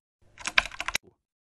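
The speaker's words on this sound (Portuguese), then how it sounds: "O som monótono da minha digitação no teclado ecoou dentro do meu quarto" A short burst of typing on a computer keyboard, about a dozen quick close key clicks under a second, with a last faint tap and then silence.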